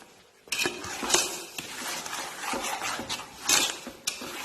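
Sugar and fruit pulp being stirred in a pan over a flame for mixed fruit jam, a spoon scraping and clinking against the metal in uneven strokes, close and fairly quiet with no talking.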